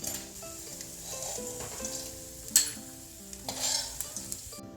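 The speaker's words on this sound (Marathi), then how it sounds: "लालसर होईपर्यंत डिंक तळून घ्यायचा" Edible gum (dink) fries in a pan until reddish while a utensil stirs it, giving a steady close sizzle with scraping strokes and a few louder clinks, over soft background music.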